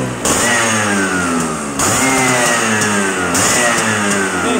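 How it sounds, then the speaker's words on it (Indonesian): A Vespa PX 150 scooter engine fires up after a kick start and runs loudly and steadily up close, its rough two-stroke note swelling in a few repeated surges with no talking. "Nah, kita akan coba nyalain ya Vespa ini"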